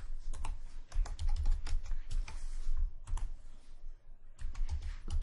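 A URL is typed on a computer keyboard in quick, uneven bursts of close, crisp key clicks, with short pauses between runs and no speech.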